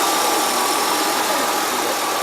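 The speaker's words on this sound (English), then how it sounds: "I know how to film, Katie, but this is kind of the engine here" The engine of a 2001 Hyundai Santa Fe runs steadily at idle, a loud, continuous close-up hum and rumble with no talk over it.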